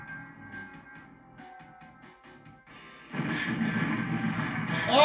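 A bomb blast in GoldenEye 007 on Nintendo Switch OLED, a sudden loud burst of crashing game noise that holds and swells to a peak at the end, after quieter game sounds with faint talk.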